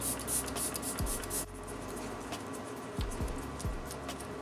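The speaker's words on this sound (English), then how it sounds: "I am going to use the Circa Beauty setting spray or setting mist" Circa Beauty setting spray misted onto a face during makeup application, giving a few soft, close, breathy hissing bursts early on, followed by quieter handling noise.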